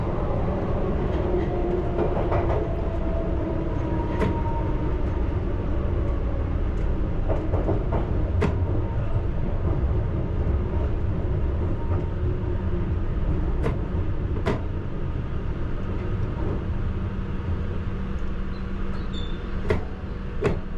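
A London Underground Piccadilly Line train brakes into Oakwood station: a loud, steady rolling rumble with scattered sharp clicks and faint squeals throughout.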